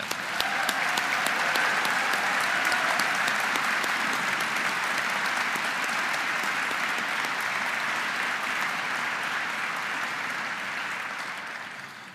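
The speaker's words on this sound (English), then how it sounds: "Could you have a round of applause for that?" Applause fills a hall at the Ghost Army Congressional Gold Medal ceremony at the U.S. Capitol: a steady, dense wash of clapping from a large seated audience that holds evenly for several seconds, then tapers off at the end.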